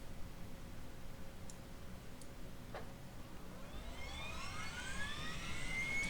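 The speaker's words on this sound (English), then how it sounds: "Start this right engine." The right engine of a plane in X-Plane 11 starts up, a faint steady hum joined by a few clicks, then a rising whine that climbs in pitch and grows louder toward the end.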